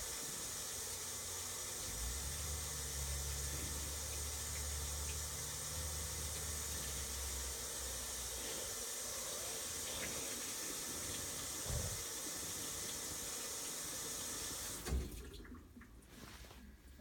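A washing machine fills with water, giving a steady rushing hiss with a low hum underneath for about fifteen seconds. The flow then cuts off with a soft clunk, and fainter rustling follows.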